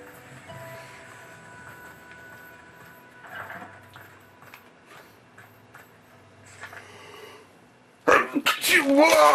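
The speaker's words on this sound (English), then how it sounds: "That sneeze almost blew me off of my ball." A video game character in Sacred 2 lets out a loud, sudden sneeze near the end, following a quieter stretch of in-game sounds and background effects.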